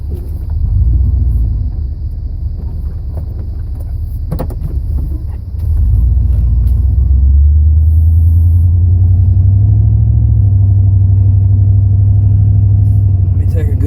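Vehicles pass on a quiet road, giving a heavy low rumble that swells and holds for several seconds, with a steady drone building in the second half and faint background sounds.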